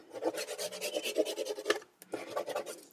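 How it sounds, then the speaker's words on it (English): A tool rubs back and forth over paper on a scrapbook page, making close, quick, rasping scratches in a steady rhythm, with a brief pause before the strokes resume. No one speaks. "Now you can burnish this very nicely"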